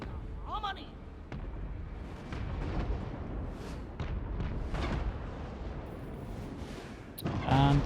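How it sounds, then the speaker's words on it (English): Cannon fire in the battle video game Total War: Warhammer 3, with repeated booming artillery shots and explosions over a continuous battle din, while a person talks throughout. "Cannons."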